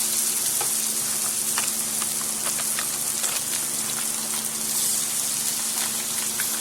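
Pre-cooked store-bought shrimp hit a pan of soy sauce chicken lo mein with a continuous close sizzle, scattered crackles and pops running through it without pause.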